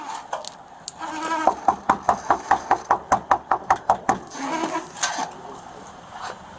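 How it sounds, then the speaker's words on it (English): Someone raps quickly on a house door, about a dozen sharp, evenly spaced knocks in one steady burst, close and clear, with quieter background sound before and after. "Let me knock on it first"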